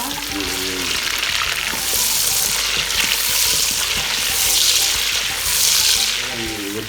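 Chicken pieces fry with steady, broadband sizzling in a pan while a gosht curry cooks, the hiss swelling and easing in slow waves with faint scraping and a little background speech.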